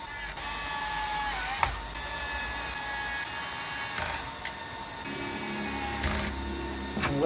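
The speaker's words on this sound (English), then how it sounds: "Now I will be just screwing in a couple of screws just to see whether everything is in" Screws being driven into a Numark NS7II DJ controller make a steady, whining electric-tool drone with brief clicks and pitch shifts, fairly close and sustained throughout.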